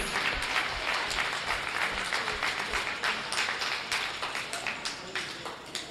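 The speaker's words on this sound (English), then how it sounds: "Let's give them a nice round of applause, please." A crowd at a county fair goat show claps continuously for several seconds, dense applause with a faint rhythmic thump beneath it, moderately loud and sustained throughout.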